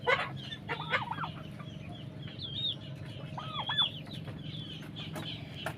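Free-ranging pet chickens cluck and make short squawking calls on a farm near turkeys, several overlapping bird voices against a low background hum, moderately close but quiet.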